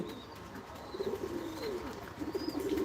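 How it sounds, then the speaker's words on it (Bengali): Pigeons in a coop coo on a winter morning, low soft rolling calls repeating close by, with faint chirps and rustles in the background. "কবুতরের সংখ্যা বেশ ভালো খুব সুন্দর ডিম বাচ্চা দেয় প্রতিনিয়ত"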